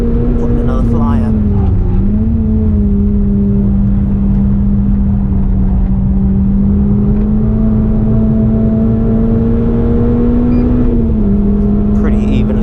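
Onboard a Renault Clio Sport race car lapping Oulton Park in the wet: a loud, steady engine drone close up, shifting pitch with throttle and a gear change, with a voice speaking over it.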